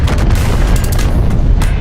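A massive planetary defense cannon in the game PVKK fires with a deep, loud, rumbling boom that fills the space, dense and continuous with a heavy low end.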